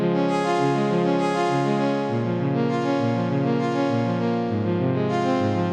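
Layered synth chords run through an arpeggiator step through a rapid, repeating pattern, with the chord changing every second or so, steady and moderately loud with no voices.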